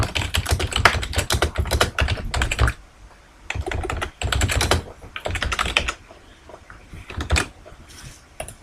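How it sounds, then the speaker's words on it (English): Fast clacking on a computer keyboard comes in dense bursts separated by short pauses, keys close and crisp, with a few isolated single presses near the end. "press the function key F2 and add my text"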